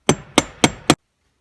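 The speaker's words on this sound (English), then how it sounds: "hit on the bottom of it with a hammer" Four sharp hammer blows strike a flat-edged pry bar wedged under the transmission shifter of a 2003–2004 Mustang Cobra T56, evenly spaced and close, then silence.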